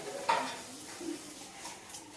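Cumin seeds sizzle in hot oil for tempering bottle gourd dal, a faint continuous hiss with a couple of soft clinks from a pan or spoon, quiet and close, no voices.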